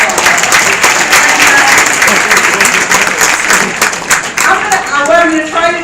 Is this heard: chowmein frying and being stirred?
no